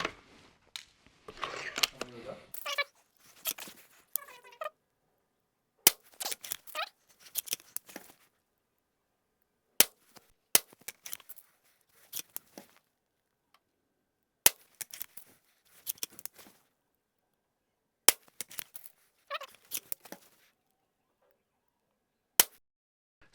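A Hatsan Airtac spring-powered air rifle fires pellets: sharp, isolated cracks spaced several seconds apart, with quieter handling clatter and some talking between shots.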